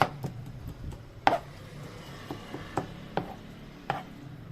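Tomatoes and peppers cut on a cutting board with a knife, several distinct chops spaced irregularly at moderate volume over a quiet background.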